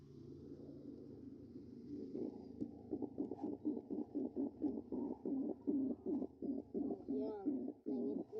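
Pigeons coo nearby in a quick run of rhythmic, throaty pulses lasting several seconds over a faint low background hum.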